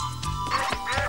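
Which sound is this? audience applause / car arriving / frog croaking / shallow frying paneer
frog croaking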